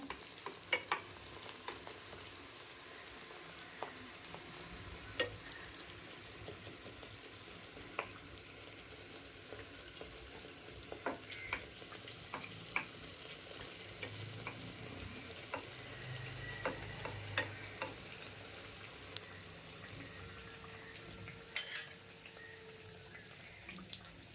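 Four malpua puffing in oil on a low gas flame give a soft, steady sizzle with scattered small pops and crackles, fairly quiet and without voices.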